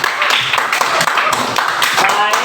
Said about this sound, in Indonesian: masing-masing memberikan tepuk tangan dulu.